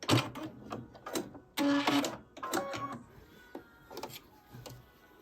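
A sewing machine stitches cotton crib sheet fabric in short, stop-and-start bursts of mechanical whirring and clatter, each lasting under a second, heard up close with no talking.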